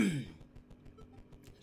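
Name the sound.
throat clearing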